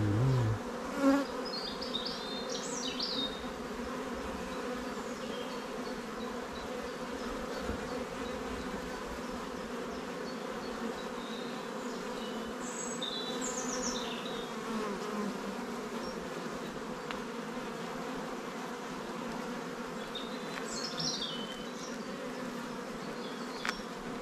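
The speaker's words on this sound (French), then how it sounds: "J'ai deux abeilles qui me tournent autour de la tête" Steady buzzing of many honeybees around a hive, a continuous drone with occasional closer passes, no voices.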